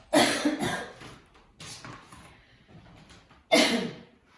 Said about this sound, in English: You have to cough.